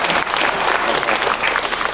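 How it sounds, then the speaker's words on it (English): Loud, close clapping from a fan convention panel audience, a brief burst of many hands in a crowded room, continuous and bright with no clear talk over it. "Everyone clap."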